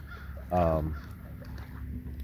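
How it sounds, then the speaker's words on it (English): A crow by a river gives one loud, harsh caw lasting about half a second, close and clear over a steady low outdoor hum. "except for the crow yelling in the background"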